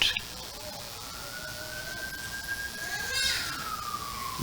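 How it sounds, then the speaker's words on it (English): Siren of a passing emergency vehicle, a single long tone slowly rising then dropping away as it goes by, moderately distant beneath a murmur of background chatter. "You hear that siren?"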